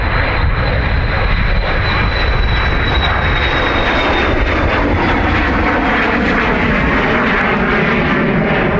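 Airliner departing Dublin Airport, its engines a loud, close, continuous roar that holds for the whole stretch, with a thin high whine fading slowly across it.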